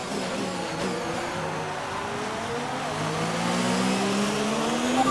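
A Ferrari Formula 1 car engine in the racing game F1 2019 gives a continuous high-pitched whine that rises and falls through gear changes as the car accelerates. It sounds close and steady, with no talking.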